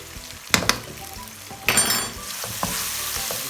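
Garlic ginger paste hitting a hot pan for dhaba-style daal mash, a sudden loud sizzle that settles into steady frying with spoon stirs and clinks against the pan.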